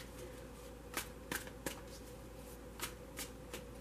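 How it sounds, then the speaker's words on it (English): Tarot cards shuffled briefly by hand indoors: a handful of quick, crisp riffling snaps and flutters at irregular intervals over a quiet background, close and fairly soft. "I have pre-shuffled, so I'm only going to shuffle for a moment."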